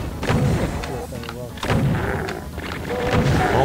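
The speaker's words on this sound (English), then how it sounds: "Oh my goodness, chain gun." Rapid chain gun fire in the video game Doom 2 blends with booming explosive thuds, loud and continuous with repeated heavy hits in a dense game-combat soundscape.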